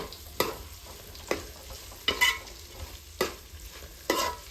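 A spoon stirs a pickle mixture in hot oil, giving five or six distinct scraping strokes at a steady rhythm over a faint sizzle, close and fairly quiet, with no talking.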